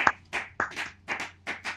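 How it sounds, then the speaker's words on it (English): Several bursts of hand clapping in quick uneven groups, close and fairly loud, like a small group applauding briefly. "It's a round of applause."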